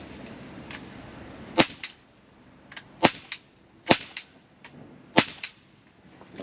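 An Umarex Glock 17 Gen 5 4.5mm BB air pistol fires about four sharp, close pops a second or so apart, several followed by a quieter snap of the pellet striking, with no talking.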